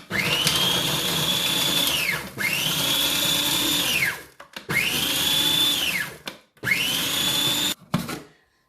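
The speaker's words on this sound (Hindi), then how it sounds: "पहले मैं ये ग्रीन चिली डाल लेता हूँ इसके अंदर और इसको थोड़ा मैं ग्राइंड कर लेता हूँ।" A food processor grinds green chilies in four loud, whirring bursts with brief pauses between them, each spinning up quickly and stopping abruptly.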